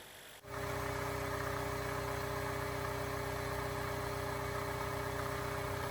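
A car engine idles steadily after an oil change, settling into a constant, even hum after a brief start at the opening, with no talking.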